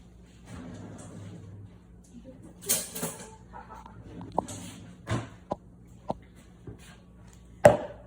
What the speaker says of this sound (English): I'm just gonna slice the tomatoes, and I think I'm gonna quarter these